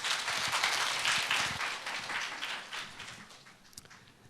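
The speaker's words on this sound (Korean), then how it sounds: "박수 부탁드리죠." Audience applause at a peace education forum session in Jeju, a continuous wash of clapping from a large hall that gradually thins and fades out.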